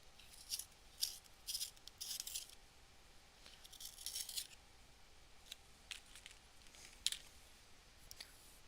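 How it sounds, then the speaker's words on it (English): Grinding scrapes of a pencil turning in a new pencil sharpener, in several short bursts with pauses between, the lead breaking off; faint and close, no talking. "I got this new pencil sharpener and I seem to be struggling a bit with the breaking off the leads"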